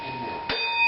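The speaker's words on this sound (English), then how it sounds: "I'm going to ring the bell for her" A bell struck once in a room, giving a bright metallic clang followed by a sustained ringing tone.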